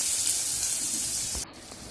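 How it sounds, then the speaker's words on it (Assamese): Onion, garlic and green chili fry in a pan with a steady, close sizzling hiss that drops slightly near the end, with no talking. "ইয়াতে পিয়াজ নহৰু কেঁচা জলকীয়া মই গোটেইখিনি ইয়াতে দি দিছোঁ দি মই অলপ ভাজি নিছিলোঁ"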